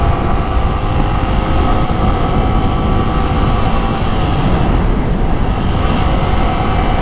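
A motorbike is ridden hard along an open expressway in Dhaka on a cool day, a steady loud drone of engine and rushing wind noise with no letup, no voices heard.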